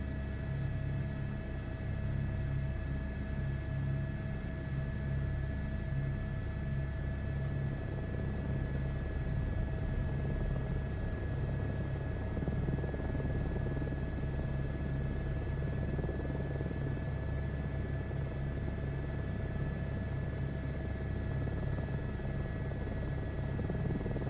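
A helicopter in Microsoft Flight Simulator 2024 runs with a constant droning rotor and turbine hum and a low rumble, steady and even throughout with no talk.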